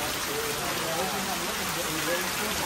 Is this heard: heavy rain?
yes